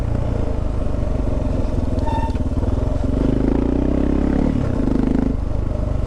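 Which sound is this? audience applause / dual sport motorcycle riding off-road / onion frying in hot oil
dual sport motorcycle riding off-road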